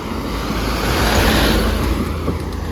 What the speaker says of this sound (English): There's a truck coming, I better get off the road for a second.